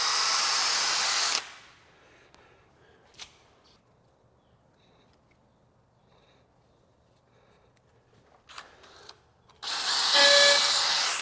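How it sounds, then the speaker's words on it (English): A hammer drill bores a 5/16 inch pilot hole into a wall for anchors, with loud harsh bursts at the start and the end and a quiet pause with small knocks between them. "we're going to start out with a pilot hole, just drilling a 5/16 inch hole. Make sure we're in hammer drill mode"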